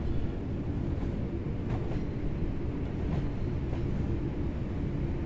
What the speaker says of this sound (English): Clickety-click over the point work.